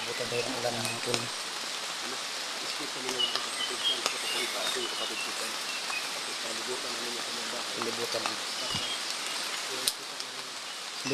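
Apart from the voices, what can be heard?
rain falling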